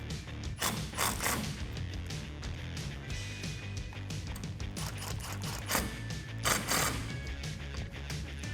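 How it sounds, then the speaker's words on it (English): Allen head bolts for a rear-mounted Bestop TrekStep side step on a 2015-2019 vehicle are driven home with a 3/16 Allen head socket, giving repeated ratcheting clicks and mechanical whirring bursts at close range, with no talking. "you'll need that same 3/16 Allen key or Allen head socket to drive these home."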